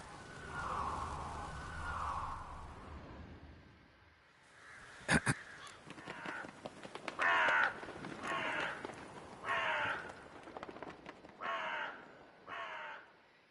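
Crows caw repeatedly in a rhythmic series of harsh calls, clear and fairly close, in The Witcher 3 video game, following a stretch of low ambient game sound.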